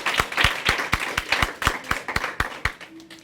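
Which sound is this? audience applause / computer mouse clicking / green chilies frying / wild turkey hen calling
audience applause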